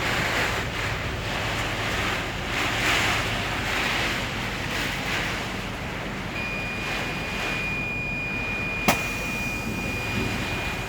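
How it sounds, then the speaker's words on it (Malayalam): Heavy wind and rain during a storm in Saudi Arabia, a dense, steady roar of gusting wind and downpour, loud and constant with a brief sharp knock near the end. "അതിശക്തമായ കാറ്റും മഴയാണ്"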